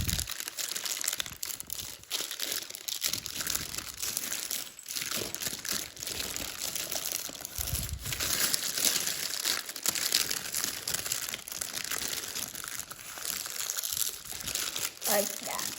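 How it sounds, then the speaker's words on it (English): Origami paper for a Ryujin 3.5 dragon being pleated and creased, a continuous close crinkling and rustling throughout, with a voice talking over it. "Now we will just continue to pleat this down."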